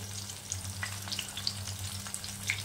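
Ash gourd fritters stuffed with filling deep frying slowly in oil over a low flame, a faint, steady crackle with tiny scattered pops and a low background hum, no voices.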